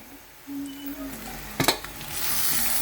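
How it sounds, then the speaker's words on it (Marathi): Eggplant pieces drop into a pan of onion-garlic masala, turmeric and garam masala frying in oil: a sharp clatter, then a rising, steady sizzle beneath a faint background hum. "आणि आता टाकतोय आपण याच्यात वांग"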